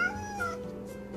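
A cat meows in a short, close, drawn-out call with a slight rise and fall, fairly soft.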